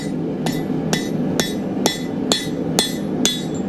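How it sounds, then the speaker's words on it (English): A hammer strikes hot iron on an anvil to forge a nail head, seven sharp ringing blows at a steady even rhythm, loud and close with no talk. "Hammer down on it. I'm looking to get a nice head there."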